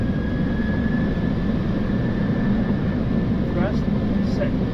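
Jet engines of an Air Europa Boeing 737-800 spool up steadily toward takeoff thrust, a broad continuous roar heard from inside the cockpit, with a faint tonal whine running through it and pilots speaking briefly over the top.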